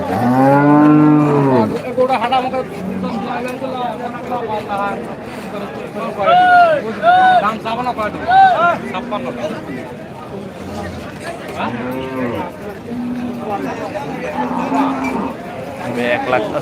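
Cows moo loudly and repeatedly at Bangladesh's largest cattle market, with several close, drawn-out calls over busy crowd noise while a person talks over them.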